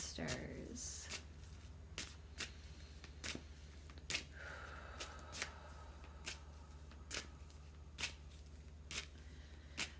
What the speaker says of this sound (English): as I shuffle cards